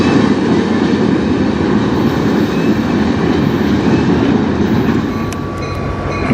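Train rolling along the Strathroy Subdivision railway, a loud steady rumble of rail cars passing close by for the whole stretch, easing slightly near the end with a few faint high squeals.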